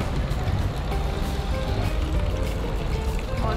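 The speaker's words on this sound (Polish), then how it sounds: "Piękna fontanna po drodze." A fountain along a street in Spain sends out a steady, loud rush of splashing water, continuous and close, with a dense broadband wash filling the whole moment and no distinct voices standing out.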